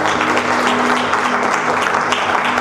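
Congregation at a church service applauding, a dense sustained burst of clapping from many hands filling the room, with no speech over it.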